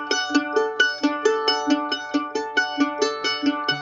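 A plucked string instrument plays an uneven 3-3-2 crosspicking pattern, with bright, evenly articulated picked notes repeating in a lopsided rolling rhythm, close and clear with no talk.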